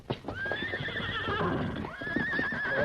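Frightened horses whinny and neigh in a radio drama, two long shrill cries in a row, fairly close, over a background of hoof clip-clop and rustling commotion.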